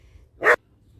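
A single short, sharp dog bark, fairly close, standing alone against a quiet background.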